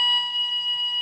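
A scheduled fire alarm rings with a steady, loud electronic bell tone held without a break through the whole moment.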